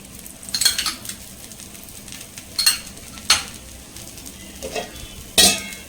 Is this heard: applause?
no